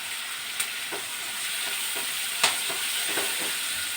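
Onions and potatoes sautéing in a pan, a steady soft sizzle with a few light stirring clicks and scrapes, close and alone with no talk.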